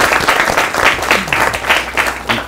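An audience applauds a singer, a dense, loud burst of many hands clapping that rolls in uneven waves for a couple of seconds, close and filling the room.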